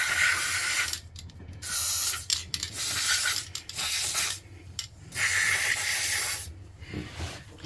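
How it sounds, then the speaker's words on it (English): Bursts of spray hissing under the seat mounting areas of a Kombi van, several loud close blasts separated by short pauses. "I'm just going to squirt a bit under there, because sometimes dirt can build up underneath these"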